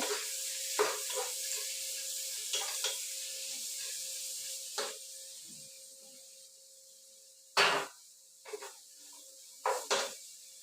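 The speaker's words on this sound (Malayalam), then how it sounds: "സവാള ഇട്ട് കൊടുക്കാവേ ഇതൊരു അഞ്ച് സവാളയാണ് മീഡിയം സൈസ് അഞ്ച് സവാള ആക്കിയതാണ്" Five medium onions frying in oil for a biryani, a steady faint hiss running through with occasional sharp clinks and scrapes of a utensil against the pan.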